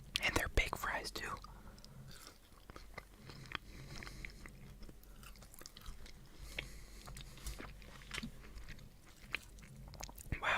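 Big french fries being bitten and chewed close up, soft crunching and mouth sounds running steadily under quiet whispering.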